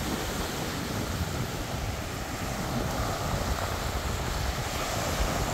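Ocean waves wash and break on the shore of a beach in Dauin, Philippines, in a steady, broad hiss, mixed with wind noise.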